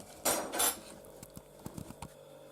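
Cutlery and dishes clink while dinner of meat, mashed potatoes and cucumber is served: two louder scraping clatters early, then several light, scattered taps of utensils on plates in a quiet room.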